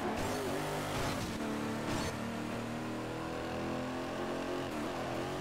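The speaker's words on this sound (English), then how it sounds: "This sounds actually more like a Charger SRT8 should sound" Dodge Charger SRT8 engine in the racing video game Midnight Club 3: DUB Edition Remix, a steady droning engine note with shifting harmonic pitch over continuous game background sound, no talking.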